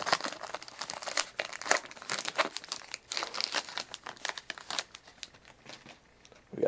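A foil wrapper on a hockey card pack is torn open and crumpled close up, giving long bursts of bright crinkling and ripping that fade toward quiet near the end.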